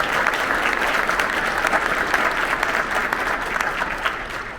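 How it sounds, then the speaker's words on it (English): An audience at a JROTC and Leadership Corps superintendent's breakfast applauds a color guard, steady sustained clapping from a large crowd filling the whole stretch without pause. "Can we please give them a warm round of applause?"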